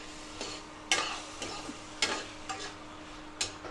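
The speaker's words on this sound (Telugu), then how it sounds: "ఉల్లిపాయలు, పచ్చిమిరపకాయలు, టమాటాలు అన్నీ ఒకేసారి వేసేయాలి" Onions, green chillies and tomatoes frying together on an induction stove for a bachelor-style egg curry, with a low steady sizzle broken by several sharp stirring scrapes and clatters at irregular intervals, close by and without talk.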